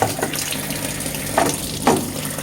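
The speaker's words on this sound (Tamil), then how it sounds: "எல்லாம் நல்லா ஊற்றுது. வாட்டர் ஃப்ளோலாம் நல்லா தான் இருக்குது." Water streams into a washing machine drum during a cleaning cycle, a steady running gush with a couple of brief louder splashes, close and moderately loud.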